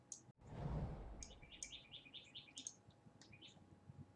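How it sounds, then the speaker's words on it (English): A small bird tweets nearby in a quiet indoor setting: a run of quick, high chirps in short bursts, faint and fairly close, after a soft low thump at the start. "I don't know if you hear that bird, but a little thing tweeting nearby"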